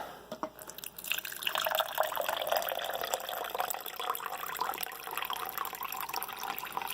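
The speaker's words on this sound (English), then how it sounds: "Let's get some water in there." Water pours steadily into an MRE pouch, a continuous close splashing trickle that runs for several seconds with no voices.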